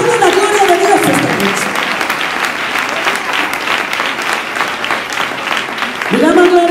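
A church youth congregation applauds loudly and steadily for several seconds, a preacher's voice speaking over the start and returning near the end.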